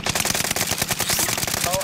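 Rapid bursts of automatic gunfire in the video game Call of Duty: Modern Warfare, loud and close, rattling in a continuous volley.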